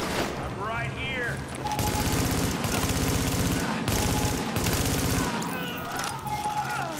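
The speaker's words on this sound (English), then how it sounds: "See me waste bullets? I'm fucking good at wasting bullets." Rapid automatic gunfire in the shooter game The Division, with loud sustained bursts broken by brief pauses and a voice talking over parts of the shooting.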